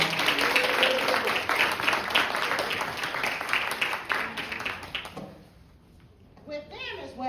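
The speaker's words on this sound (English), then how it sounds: "Let's give them a round of applause." Applause from families and youth at a bike awards night, clapping for a few seconds before dying out, followed by brief voices and someone speaking.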